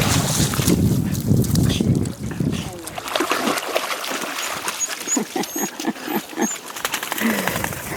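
Dogs splash and paddle through water on an outdoor nature walk, with choppy bursts of splashing, wind buffeting, and people talking and encouraging nearby throughout.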